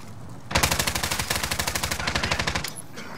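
Rapid automatic gunfire in Call of Duty: Warzone, a steady burst of about two dozen evenly spaced shots lasting roughly two seconds, loud and close, with no talk over it.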